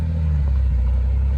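An old Oldsmobile Cutlass rumbles loudly nearby as its engine is given gas while driving, a deep steady roar lasting a moment.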